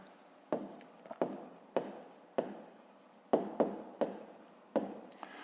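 Pen writing on paper while working a fifth-grade math exercise, a steady scratchy scribble broken by a string of sharp, regular taps and strokes, close and clear with no talk.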